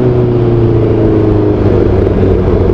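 Motorcycle fitted with an aftermarket SC Project exhaust bought from Amazon, its engine droning loud and close with a steady, slightly rising tone throughout, no talking over it.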